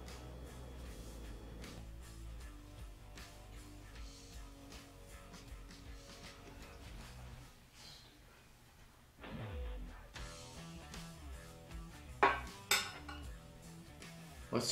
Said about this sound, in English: I have to take these skewers out.